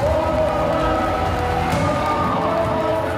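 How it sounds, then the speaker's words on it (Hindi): Large crowd of supporters at a political rally in Bundi, Rajasthan, a dense, continuous roar of massed voices and noise filling the whole stretch without any break. "इस रैली में समर्थकों की भीड़ उमड़ी।"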